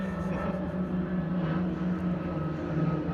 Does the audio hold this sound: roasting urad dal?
no